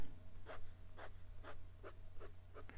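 Nib of a vintage Sheaffer Craftsman Touchdown fountain pen scratching across paper in about six short, evenly spaced strokes, close and quiet over a low steady hum.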